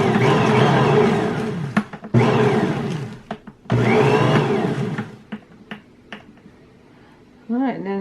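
An electric mixer beats cake batter for a chocolate Ding Dong cake in loud whirring bursts, starting and stopping with clicks between runs, then a short final burst.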